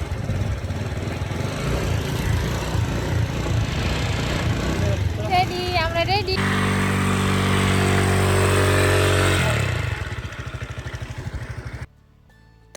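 Motor scooter running steadily, a continuous buzzing engine drone with rumble and wind, shifting in tone midway before cutting out near the end; voices are heard over it.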